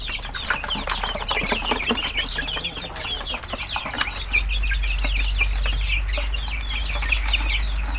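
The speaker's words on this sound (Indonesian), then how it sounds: "ini ayam-ayam punya saya itu udah pada lapar kali ya, ini menunggu pakan yang saya udah siapin" Hungry chickens cluck and chatter loudly and steadily while being given homemade feed, with many overlapping calls close by and no voices over them.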